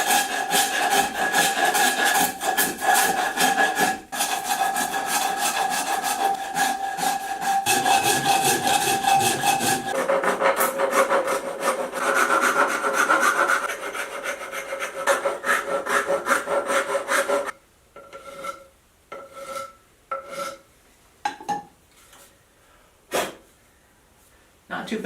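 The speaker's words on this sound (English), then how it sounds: "taking a coarse rasp, and I'm just going to take my time" A coarse rasp works a wooden table leg in long, steady scraping strokes, close and loud, then shifts to shorter, sparser rasping bursts with gaps of quiet toward the end.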